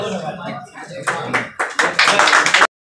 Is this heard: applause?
yes